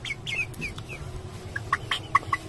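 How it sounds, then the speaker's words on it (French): Young hens cluck softly inside a henhouse, a scatter of short, close clucks and chirps over a low steady background hum. "Et 2 jeunes poulettes."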